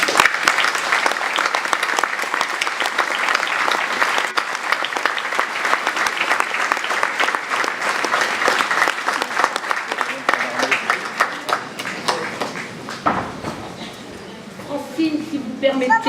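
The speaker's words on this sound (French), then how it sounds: "je leur demande de lui réserver de très chaleureux applaudissements" An audience at a New Year's greetings ceremony in Athis-Mons applauds warmly, with dense, sustained clapping that thins and fades near the end while a voice starts to speak.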